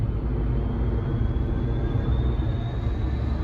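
A freight train hauled by class 66 locomotive 66-120 rolls past on the line near Wandsworth Road, giving a heavy, continuous low rumble with a faint thin tone rising above it.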